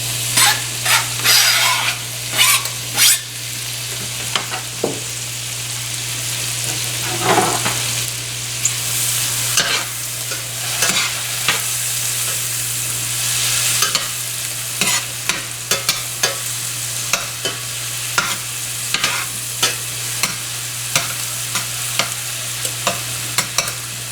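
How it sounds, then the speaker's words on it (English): Mushrooms sizzle in a hot pan for a long stretch while a utensil stirs and scrapes repeatedly, sharp clacks scattered over the steady frying hiss with no talking. "And we're going to add our mushrooms."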